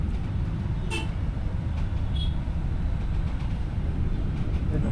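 A couple of short horn toots sound over a steady low engine rumble and traffic noise in Chennai, one near the start and another shortly after, heard from aboard an MTC electric bus.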